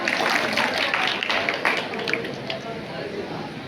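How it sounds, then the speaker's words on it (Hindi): An audience at a Hindi fortnight closing ceremony claps heartily to welcome the winner of a poetry recitation competition, a steady wash of applause that thins slightly as it goes on. "एक बार जोरदार तालियों के साथ अरूफा का स्वागत करें"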